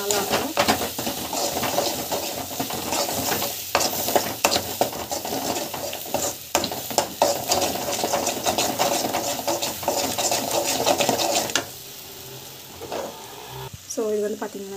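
Tamarind fish curry sautéing in a pan, with steady sizzling and frying and repeated scraping and stirring strokes against the pan. The sizzle runs continuously for most of the clip, then drops off sharply near the end.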